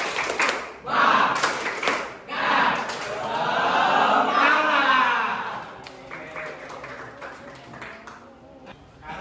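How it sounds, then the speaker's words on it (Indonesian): Students in a vocational high school class perform a rhythmic group clapping chant, voices shouting together over sharp, patterned claps that start loud and taper off toward the end. "Pimpin untuk tepuk semangat, silakan Justin."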